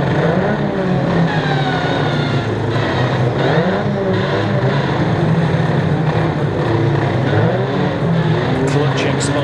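1500cc banger racing cars at Kings Lynn, engines roaring and revving loudly around the track, with continuous motor drone and shifting pitches, under a commentator speaking over a public address.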